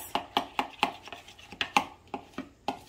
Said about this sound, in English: I'm gonna give this a nice little mix.